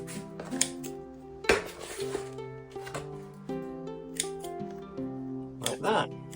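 Crisp snips of bonsai scissors trimming the fibrous roots of a blue spruce during repotting, several sharp clicks spaced irregularly, close to the mic, with faint speech around them.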